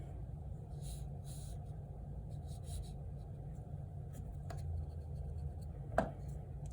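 Pencil or pen drawing a line on paper, soft scratchy strokes in short bursts over a low steady rumble, quiet and close, with a sharp tap near the end.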